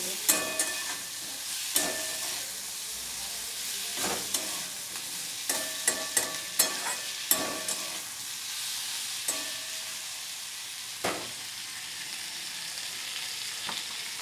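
A spoon works through a fish, potato and bitter gourd curry in a pan, scraping and clacking in an irregular run of close taps over a faint, steady sizzle, with no talk.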